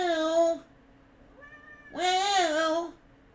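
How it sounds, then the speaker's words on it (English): A cat gives two clear, close meows separated by a short pause, with a fainter chirping sound in the gap between them. "Cat!"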